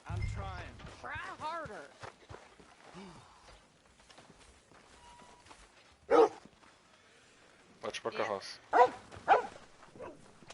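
Dog barking in Red Dead Redemption 2 video game, several sharp barks in bursts near the end, loud and close, after a stretch where people speak.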